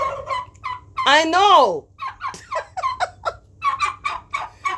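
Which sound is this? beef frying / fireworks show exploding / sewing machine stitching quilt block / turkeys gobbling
turkeys gobbling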